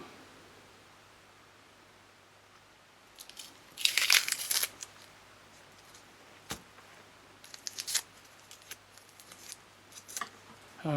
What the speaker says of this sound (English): Alright, so now I need to trim it up.